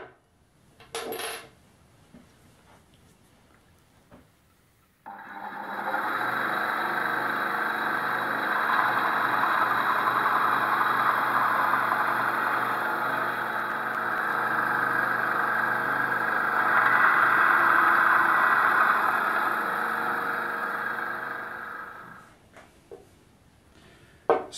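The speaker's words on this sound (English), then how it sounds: "we're going to take it over to the bandsaw and we're going to cut this into two pieces the same length as these tubes" A bandsaw cuts a blank made from compact disc cases, a steady whining, rasping cut lasting about eighteen seconds, loud and close, with brief clicks before and after and no talk.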